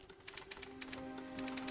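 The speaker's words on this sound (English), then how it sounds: "There would be this fanatical noise of a typewriter going. And it would be the bang of the carriage going across." A typewriter being typed on fast: a quick, irregular run of sharp key clacks over a faint steady tone, close and fairly quiet, with no voices.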